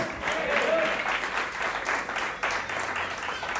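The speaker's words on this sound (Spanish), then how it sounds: "¿Alguien le da un aplauso a Jesús en esta noche?" A church congregation applauds during an evening service, a dense burst of clapping from a crowd of worshippers that carries steadily for a few seconds.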